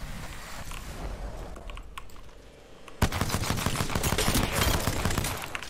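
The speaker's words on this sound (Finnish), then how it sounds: "Joku ampu nyt tuolla." Rapid bursts of gunfire in the battle royale game Apex Legends, starting loud and abruptly partway through after a quieter stretch of game ambience, then continuing as dense, sustained automatic fire.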